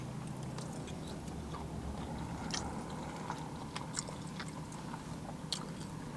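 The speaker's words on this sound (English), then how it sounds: "I'm gonna try shrimp first." Someone bites and chews shrimp with Old Bay butter from a stuffed salmon plate off a food truck, soft close chewing with faint crunches, quiet against steady room noise.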